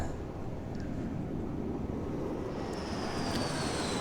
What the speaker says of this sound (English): plane lands